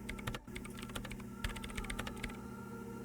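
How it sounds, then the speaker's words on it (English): Quick, close keyboard typing in the Disco Elysium video game, a dense run of clicky keystrokes entering commands over a low steady hum. "her hands typing hundreds of commands into the machine"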